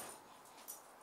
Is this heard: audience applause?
no